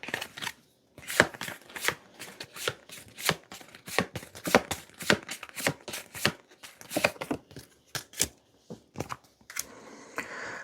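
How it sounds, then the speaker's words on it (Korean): Tarot colour cards are shuffled and two are drawn, giving a dense run of crisp, sharp card snaps and riffles at close range, rapid and uneven, with a softer rustle near the end and no talking. "마지막으로는 색상 카드 2장을 뽑아볼게요."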